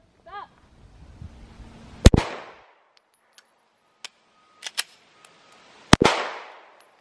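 Handgun shots ring out on a range during a malfunction-clearing drill: two sharp, loud reports about four seconds apart, each with a short echoing tail, separated by fainter clicks and handling noises.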